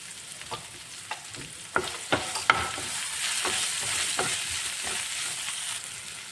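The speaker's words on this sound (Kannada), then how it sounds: "ಸ್ವಲ್ಪ ಉಪ್ಪು ಹಾಕ್ಕೊಂಡು ಫ್ರೈ ಮಾಡ್ಕೊಳ್ತಾ ಇದ್ದೀನಿ" Steady sizzling of salted potatoes frying with repeated scraping strokes of a spoon stirring through the pan, close by.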